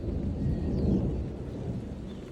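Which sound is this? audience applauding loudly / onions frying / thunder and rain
thunder and rain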